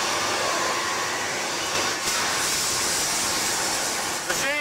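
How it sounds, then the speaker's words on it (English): A robot welder joining trailer hitch heads on a factory floor gives a loud, steady hissing roar that runs almost unbroken, with some brief metallic whirring near the end. "This is our robot welder, where right now our hitch heads are being welded together."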